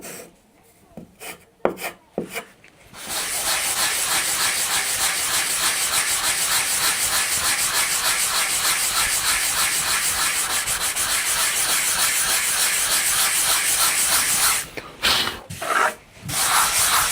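Hardwood edging on a veneered wall cabinet being sanded by hand, a loud, close, steady rasping rub that runs for over ten seconds, with a few brief scrapes before and after the main stretch.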